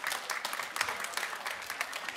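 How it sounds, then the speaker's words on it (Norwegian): An audience claps together in a quiet, steady patter of applause that runs on throughout, with no voices standing out. "Der sitter dere gjerriknarkene og bare klapper."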